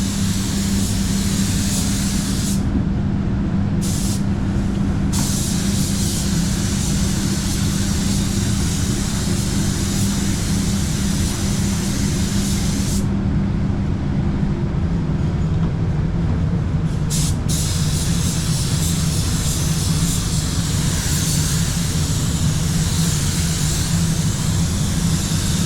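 Spray gun laying paint on a car during a full respray, a loud, continuous hissing rush of air that keeps going with only brief breaks in its upper hiss.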